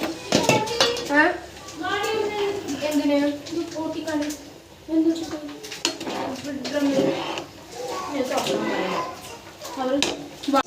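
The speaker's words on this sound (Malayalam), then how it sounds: "അപ്പം തന്നെ ഇളക്കണം, അല്ലെങ്കിൽ അത് കട്ട കൊട്ടും." Semiya vermicelli being stirred in a pot of boiling water, with light clinks and scrapes of a utensil against the pot, mostly under a person talking.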